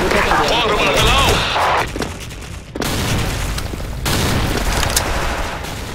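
Blasts and gunfire from the first-person shooter Rhizoid, loud and dense bursts with a sudden drop near the middle before the booming resumes; no voices over it.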